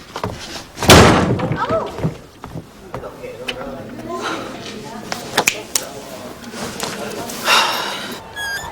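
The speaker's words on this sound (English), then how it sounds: "I can slam the door. Louder!" A wooden door slams again, louder, during a stage play rehearsal: a sharp heavy bang early on, followed by scattered knocks and thumps with people talking around it.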